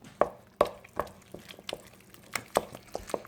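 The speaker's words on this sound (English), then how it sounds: "The next thing I'm going to add in is 1 egg at a time. I'm going to mix it in together." An egg being mixed into Passover muffin batter in a bowl, with soft wet knocks and squishes of the spoon in an irregular rhythm, close and fairly quiet, with no talking.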